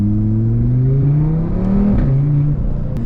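A loud Audi RS3 on the move, its engine droning steadily with rising and falling pitch while the exhaust pops and crackles near the end of the clip, close and continuous, with no talking.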